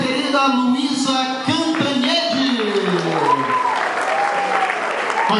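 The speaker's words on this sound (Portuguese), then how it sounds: "E também uma salva de palmas Luísa" Audience at an artistic performance evening applauding, steady sustained clapping with a voice speaking over it throughout.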